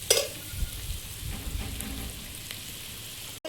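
Tilapia fish curry with turmeric, salt, chilli and cumin powder is sautéed in a pan, giving a low, steady sizzle with faint scrapes of stirring and a brief clatter at the start.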